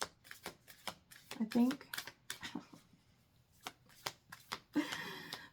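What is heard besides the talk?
shuffling a deck of oracle cards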